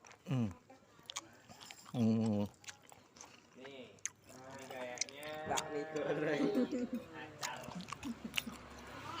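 Someone eating Bakmi Jawa, a Javanese chicken noodle dish, and sipping its broth: short close slurps and chewing sounds at the start, followed by a stretch of talking with some eating noises mixed in.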